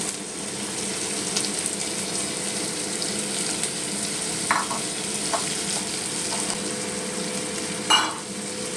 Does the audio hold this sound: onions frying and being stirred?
yes